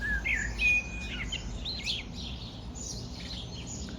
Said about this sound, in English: I just want you guys to hear the sound of the birds